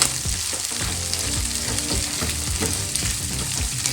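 Chopped green chillies fry in a pan for a spicy green chilli chutney, giving a steady, close sizzle with intermittent stirring scrapes and clatters throughout.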